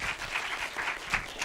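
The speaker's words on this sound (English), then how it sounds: "big round of applause for these guys" Applause from an audience at a school event, a steady patter of many hands clapping at moderate distance, fairly soft and unbroken.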